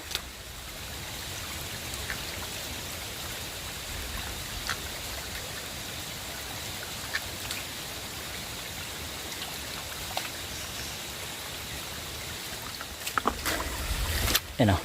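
Spring water from a natural mountain spring trickles and splashes steadily and close by, a continuous watery wash that runs throughout, with a few brief knocks and handling sounds near the end.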